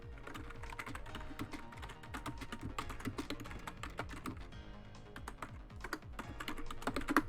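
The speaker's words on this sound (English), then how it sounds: "Ignore how close my keyboard is to my microphone so you can definitely hear me typing." Rapid typing on a computer keyboard placed very close to the microphone, with a dense, uneven patter of crisp key clicks running continuously and no voices.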